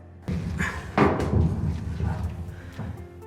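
A heavy steel checker plate sheet thuds and bangs into a shipping container, a few dull heavy impacts and scrapes close by, with effortful breathing between.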